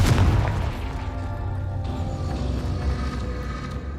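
Confringo fire spell blast in Hogwarts Legacy, a single heavy booming explosion at the start that rolls into a long, loud, rumbling decay with no voices.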